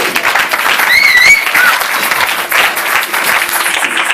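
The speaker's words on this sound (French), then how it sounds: "Acclamez très très fort le Seigneur" A church congregation applauds loudly for the Lord in dense, continuous clapping that fills the room, with a few brief whistles or cheers near the start and no clear speech.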